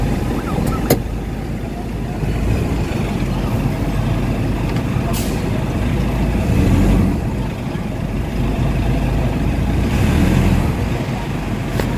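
A Nissan NV350 Urban Premium van with a low-power, throttle-delay fault runs with its engine droning low and steady inside the cabin, the air conditioning blowing and a few faint clicks on top.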